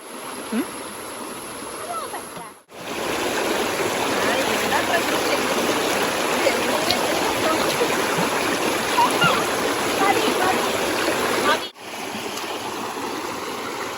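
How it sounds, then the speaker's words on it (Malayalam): A cold river flowing through lush natural scenery rushes loudly and steadily in a broad roar of water, close by, with two brief cuts in the sound. "ഇവിടുത്തെ പ്രകൃതി രമണിയായ പുഴ"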